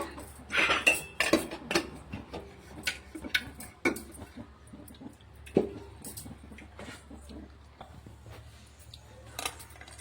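Peanuts tumble into hot oil in a pan, producing a cluster of small hard clinks and rattles up front, followed by scattered metallic taps and faint sizzling, close by and without speech.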